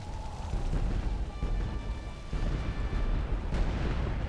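Cannon fire and explosions in the video game Medieval 2 Call of Warhammer during an Empire battle: a steady, dense rumble of artillery booms and blasts with a sharp burst near the end, no talk.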